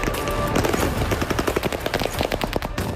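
Automatic weapons fire in rapid bursts and volleys at civilian protesters in a street in Kherson, a dense crackle of shots over loud outdoor noise and commotion.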